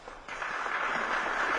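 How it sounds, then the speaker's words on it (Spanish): Audience applause dubbed in after the fact, a steady wash of many hands clapping at moderate distance that swells in after a brief quiet start and holds evenly. "Y ahí aplaudimos todos. Señor editor, nos ponen los aplausos, por favor"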